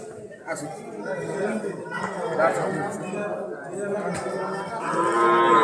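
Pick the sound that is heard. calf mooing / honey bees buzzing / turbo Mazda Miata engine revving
calf mooing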